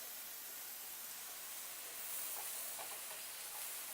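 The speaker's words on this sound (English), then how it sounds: "We're going to throw in the cabbage." Cabbage tossed into a hot pan gives a faint, steady hiss of sizzling that holds evenly for a few seconds, swelling slightly toward the end, with no voices.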